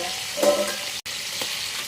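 Fish pieces frying under a lid in a pan, a steady close sizzle with a couple of soft clinks and a brief dropout midway.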